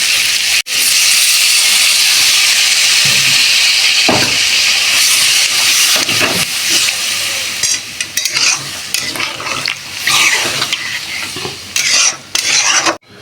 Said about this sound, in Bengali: এইবার আমি ওখানে জল ঢেলে দেবো।